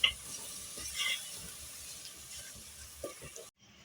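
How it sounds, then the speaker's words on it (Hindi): Masala sizzles and fries in a pan with leftover chickpea water, a steady soft hiss with faint stirring, fairly quiet and alone, cutting off near the end. "इस तरह से करके हम अच्छे से इसकी भुनाई कर लेंगे"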